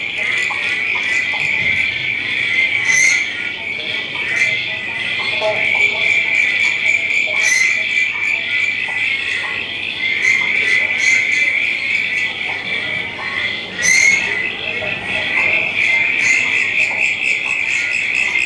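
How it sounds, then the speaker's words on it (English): A dense nighttime chorus of several frog species calling together at a peat bog in Gippsland, with a steady high trill, scattered croaks and chirps overlapping continuously throughout. "7 species of frogs were recorded in that water body."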